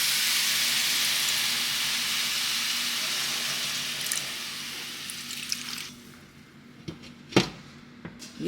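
Water pours and sizzles into a hot pan of cooking creamy stuffed salmon, a loud hiss that fades, followed by a few clanks and taps of cookware up close.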